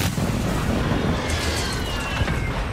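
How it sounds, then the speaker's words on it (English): Continuous rumbling explosions from a mortar strike in the Warzone video game, a dense, loud barrage of booms running throughout with no clear gaps. "Hostile mortar strike incoming."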